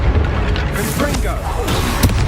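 A Confringo blasting spell goes off in Hogwarts Legacy, a loud, dense burst of fiery rumble that stays heavy across the whole moment, with a sharper crack near the end over game voices.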